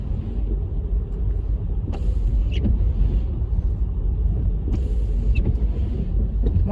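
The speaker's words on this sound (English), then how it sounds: "We're gonna drive through the covered bridge." A car rolls through a covered bridge at Stone Mountain Lake, a steady loud low rumble of engine and tyres on the deck that fills the whole stretch, with faint brief knocks over it.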